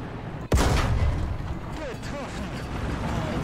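A bomb detonates in a tank combat game with a sudden, loud crack followed by a rumbling tail, then fainter distant thumps and mechanical noise as a voice talks over it.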